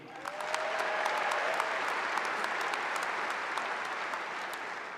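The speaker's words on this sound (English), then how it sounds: "Please give them another round of applause" A graduation audience at a high school ceremony claps in sustained applause for graduates entering military service, broad and even with a few sharper nearby claps standing out, and a brief whistle early on.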